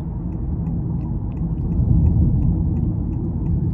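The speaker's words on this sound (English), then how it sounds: "This car makes sense when you're driving it down the road." A 2024 Honda Accord EX with a 1.5-litre turbo four-cylinder cruising down the road, heard as a steady low rumble of engine and road noise from inside the cabin, with no talk.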